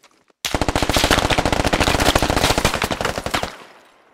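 Automatic gunfire in the Squad video game, one long loud rapid burst of closely spaced shots lasting about three seconds, then trailing off into a brief echo.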